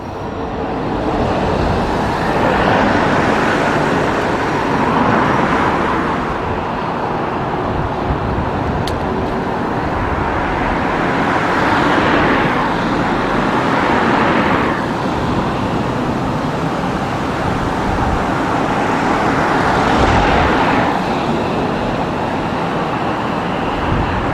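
A London bus on Sullivan's Route 298 crossing the motorway passes amid busy road traffic, a broad rushing roar that swells and fades in several waves as vehicles go by, with no talk.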